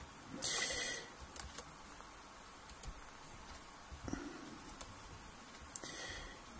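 Quiet, sparse clicks of a computer mouse selecting files in an ECU mapping program, a handful of soft isolated taps spread across a near-silent room.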